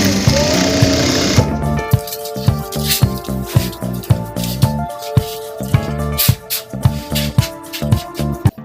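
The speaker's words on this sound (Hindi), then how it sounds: "इस लाइन के ऊपर मैं सिलाई करूंगा" A sewing machine stitches a border onto a curtain, its rapid mechanical whirr starting after a moment of noise and running in steady bursts with brief pauses, loud and close.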